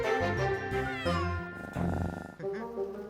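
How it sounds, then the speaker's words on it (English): A cartoon kitten meowing, several bright, close meows in quick succession with a rising and falling pitch, clear and fairly loud. "Look how happy the kitten is."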